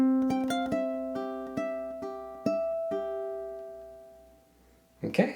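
A ukulele plays the measure-two run, picked note by note in a quick descending pattern and left to ring and fade. A brief handling or strum noise comes at the very end, with no talking.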